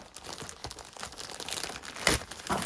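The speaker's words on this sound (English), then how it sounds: "we'll unwrap another parcel from them" A parcel from a book publisher is unwrapped up close, with continuous crinkling and tearing of packaging and one louder rustle near the end.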